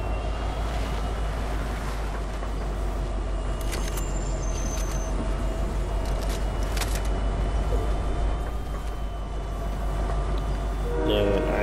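Train rolling steadily through the Fortnite game world, a continuous low rumble of wheels and carriage noise with a few brief higher metallic squeals, no talking.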